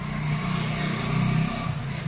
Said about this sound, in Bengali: একটু প্রাইভেট কার্স বেশি চলছে